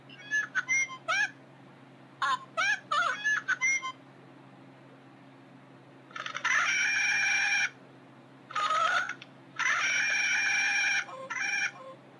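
A stuffed Porg toy makes electronic chirps and squawks in short bursts, then longer buzzy warbling calls, fairly loud with a steady low hum underneath.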